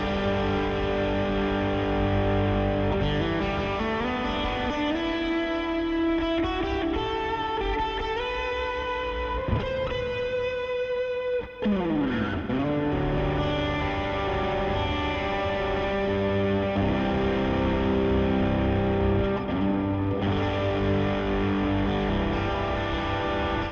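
An electric guitar is played through a pedalboard with light distortion, producing sustained chords and notes thickened by echo, chorus and reverb, with pitch-bending swells, continuous and loud with no voices.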